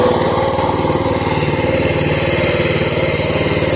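Small single-cylinder engine of a Mesko RJS-1 garden tractor running steadily at close range, a loud continuous putter with a fast even firing rhythm and no voices.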